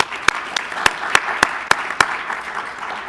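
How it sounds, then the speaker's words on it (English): A few hands clap in a slow, evenly spaced rhythm at a panel discussion on budget priorities, with each clap sharp and distinct over a quiet room. "Please give her a round of applause."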